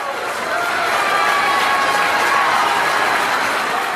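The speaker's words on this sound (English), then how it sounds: "Energetic crowd here once again in Morganton." Energetic wrestling crowd at a Morganton match roars steadily with cheers and shouts, a dense, sustained wall of noise that swells slightly and holds throughout.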